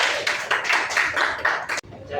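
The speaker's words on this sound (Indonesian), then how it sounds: "Tepuk tangan untuk kelompok C." Pupils in a classroom clap for group C in uneven bursts of claps and taps, ending abruptly, with brief talk in the room.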